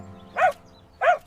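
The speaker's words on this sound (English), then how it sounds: "He heard a little bark." A small dog gives two short yaps about half a second apart at moderate distance, alone against a faint steady background hum.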